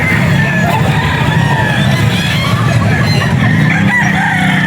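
A Sweater-line gamefowl rooster crows amid steady, loud market din. The crowing rises over constant background chatter and noise, and the rooster's calls stretch through most of the stretch.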